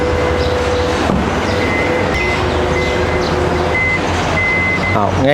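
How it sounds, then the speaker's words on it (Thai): Repeated electronic warning beeps from a Toyota Fortuner's tailgate that won't open fully, sounding at intervals over a loud, steady rumble of engine or machinery noise. "มีสัญญาณเตือนบอกแบบนี้นะครับ"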